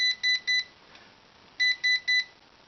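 Two bursts of three quick electronic beeps each, high-pitched and evenly spaced, come from a small RC quadcopter's handheld controller, with near silence between the groups.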